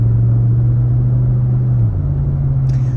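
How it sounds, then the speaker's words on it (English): A truck engine hums in a low, steady drone from inside the cab while driving. The pitch shifts slightly partway through as the engine pulls, with no talking. "this truck accelerates nicely, and it's got some balls to it"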